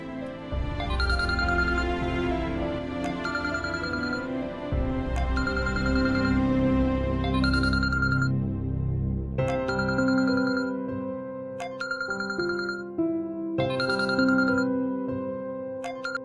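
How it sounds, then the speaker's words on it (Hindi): A mobile phone ringtone plays in a drama scene. A bright, chiming melody repeats in short phrases, loud and steady over a low hum, with no talking. "मैं ज़रियाब से बात करने का सोच रही थी, और जब उसका फोन आया तो काट दिया।"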